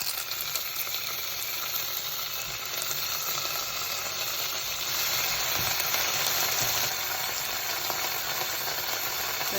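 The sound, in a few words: homemade halloumi cheese frying in a pan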